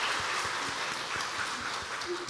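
A church congregation claps to welcome the middle and high school youth groups back from their retreat, a steady dense patter of applause with a voice faintly over it.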